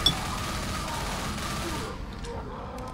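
Rapid gunfire from the video game Left 4 Dead crackles in dense, continuous bursts for about two seconds, then cuts off into a quieter stretch.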